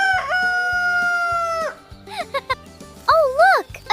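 A rooster's crow in a children's farm-animal counting cartoon rings out loud and stretched, followed by short clucks and a wavering call over a bouncy music bed.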